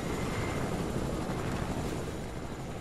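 Helicopter in the Fortnite video game, a constant loud whirring engine drone with rotor noise that holds steady throughout.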